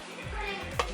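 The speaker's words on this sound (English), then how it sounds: "Just keep stirring and scraping up the bottom" A spoon stirs and scrapes along the bottom of an Instant Pot holding beef and broth. The scraping comes in quick strokes, and two sharp clinks sound near the end.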